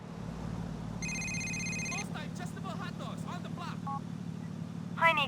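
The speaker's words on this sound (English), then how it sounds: "Let me show the phone call you get from Kate if you kill" An incoming phone call from Kate rings in GTA IV as a brief electronic trill lasting about a second, clear and close, over a constant low engine drone, with a voice speaking afterward.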